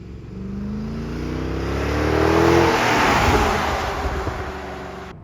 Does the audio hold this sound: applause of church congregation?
no